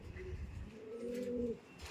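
Pigeons in a cage give low, rolling coos, close and fairly steady, with a couple of drawn-out calls near the middle.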